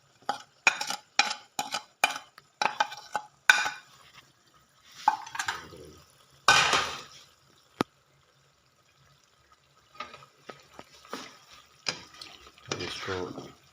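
A spoon scrapes and clacks in a pan while chicken karahi with fennel, coriander, cumin and salt is mixed, bursts of sharp stirring knocks with quiet pauses between, close and fairly clear.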